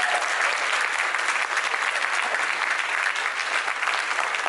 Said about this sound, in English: Can we have a round of applause for the cannabis lawyers?